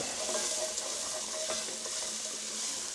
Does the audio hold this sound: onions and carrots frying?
yes